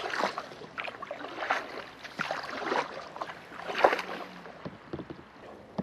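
Canoe paddling on the Ilmenau river under a road bridge, rhythmic paddle strokes and water swirls close by, repeating roughly every second over a light wind rumble.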